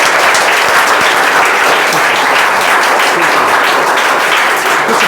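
Loud, sustained applause rolls through a crowd honoring students at a school prize-giving ceremony, dense clapping holding steady from start to finish.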